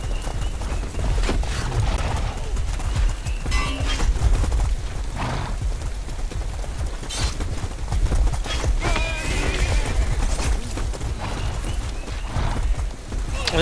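Horses in the medieval combat video game War of the Roses: loud, continuous galloping hoofbeats with sharp whinnies and neighs rising over the clatter, amid battle noise and a busy, dense mix.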